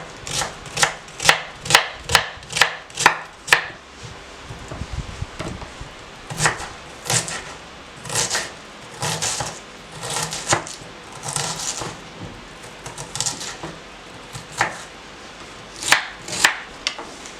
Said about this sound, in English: let's dice our onions